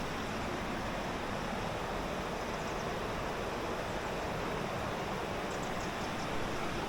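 Steady, broad rushing of water pouring over a weir, a continuous loud wash with no pauses and no voices.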